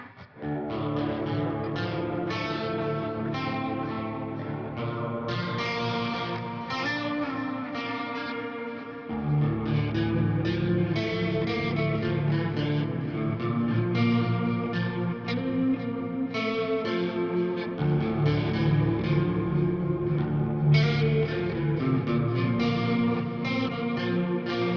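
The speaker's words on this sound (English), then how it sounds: "So let's get a reverb going, a plate." An electric guitar played through the BIAS FX amp app with a plate reverb plays sustained chords and melodic lines continuously, with a lush, effected tone and a shift to fuller low notes partway through.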